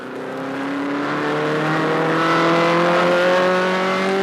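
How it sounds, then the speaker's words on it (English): A race car engine climbs steadily in pitch as it accelerates through the pits, a loud continuous roar heard from onboard that rises smoothly without pause. "We're accelerating through the pits in second gear, up into third, and then fourth."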